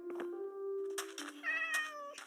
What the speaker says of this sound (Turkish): Kedi, merhaba kedi kardeş.